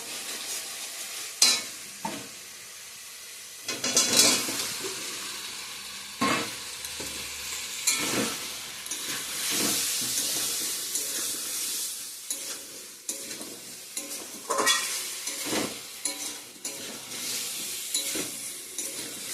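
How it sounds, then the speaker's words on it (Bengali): Cauliflower and potato fry in spices for a vegetarian dalna, a close, lively sizzle punctuated by repeated spatula scrapes and knocks against the pan as the pieces are stirred, with no talking. "আর একটু কষিয়ে নেব ফুলকপির সঙ্গে"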